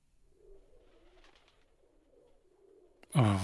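Pigeons on a rooftop coo softly and repeatedly, a low murmuring burble that runs steadily for a few seconds before a sudden loud voice cuts in at the end.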